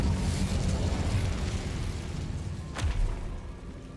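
An Incendio fire spell in Hogwarts Legacy bursts with a rumbling, fiery whoosh that slowly fades, followed by a second short thump and flare partway through.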